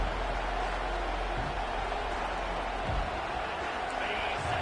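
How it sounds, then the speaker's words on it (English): A football stadium crowd roars at an Alabama college game, a dense, steady wall of cheering noise that stays loud and unbroken throughout. "It's early, but this crowd is fired up. Listen to this noise here."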